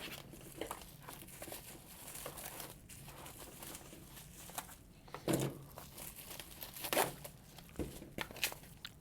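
Plastic wrapping crinkles and tears as it is pulled off a white Seiko watch box for a Marine Master 200 SBDC061, a continuous close rustle with a few sharper rips standing out.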